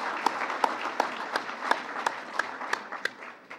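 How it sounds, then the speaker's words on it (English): Scattered applause at a synagogue anniversary celebration for Rabbi Urecki, a fairly quiet stretch of distinct, evenly spaced individual claps over a soft bed of crowd clapping. "And yes, give him applause."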